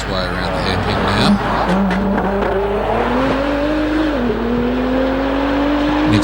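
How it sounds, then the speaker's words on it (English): A GTR race car corners around a hairpin at the Legend of the Lakes Hillclimb, its engine note climbing steadily as the tyres squeal, with a commentator talking over the roar. "As we see the Nick Strickerson, the GTR, making its way around the hairpin now"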